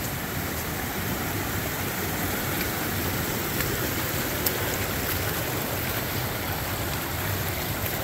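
A clear, cold creek flowing in the mountains, a steady broadband rush of water that stays close and even throughout with no voices.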